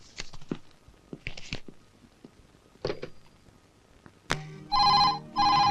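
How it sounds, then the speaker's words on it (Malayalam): An electronic telephone ring sounds in two loud, close bursts, following a stretch of sparse taps and knocks indoors. "ഫോൺ എടുക്ക."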